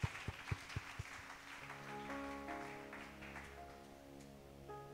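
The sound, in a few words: applause for the Lord in a church service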